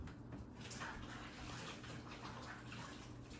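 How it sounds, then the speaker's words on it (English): Hands are rinsed under a running kitchen tap while baking gluten-free muffin biscuits, a faint steady hiss of flowing water with no speech. "let me wash my hands real quick"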